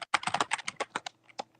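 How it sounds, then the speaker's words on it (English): Quick, close clicks of typing on a computer keyboard fill a short, rapid burst of keystrokes that trails off into a few scattered taps. "Why you fucking typing while me and Turk are trying to have a moment?"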